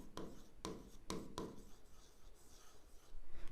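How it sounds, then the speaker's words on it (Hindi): Pen writing on paper while an accounting entry for a postage expense is entered, a few distinct scratchy strokes at the start, then softer faint scribbling, close up and quiet with no talk. "लो जी, लिख दिया हमने।"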